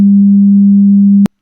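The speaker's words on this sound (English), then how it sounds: "This is of course a sine," A pure 200 Hz sine test tone sounds loud and perfectly steady for just over a second, then cuts off abruptly into silence.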